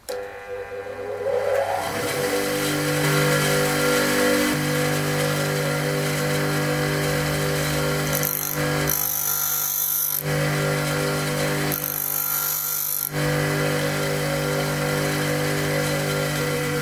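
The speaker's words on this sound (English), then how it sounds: "I'll show you how I sharpen my drills now" A round steel drill bit being sharpened in its annealed state, a steady loud mechanical whine of a power tool with harsher grinding bursts around the middle, close and continuous.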